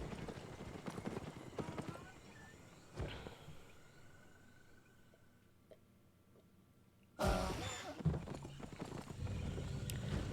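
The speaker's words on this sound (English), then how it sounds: "The simultaneous sound of all of the donkeys spawning in." Donkeys spawn in together in the video game Albion Online: a sudden loud burst of clopping hooves and braying near the end, after quieter game sounds.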